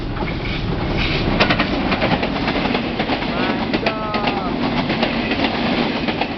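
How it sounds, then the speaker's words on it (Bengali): A train on a Bangladeshi railway rumbles close by, wheels clattering rhythmically over the rails in a loud, continuous roar with a faint voice underneath. "গাইজ, দেখুন ট্রেনটা আসতে চলেছে।"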